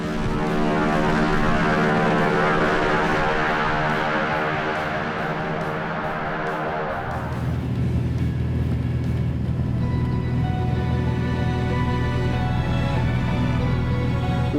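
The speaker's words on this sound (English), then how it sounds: "We went up to the bush plane, actually try to locate some of these grizzly bears." A bush plane flies over the Alaskan wilderness, its propeller engine droning loud and steady throughout, the tone shifting abruptly midway to a rougher, lower roar as the aircraft changes power or angle.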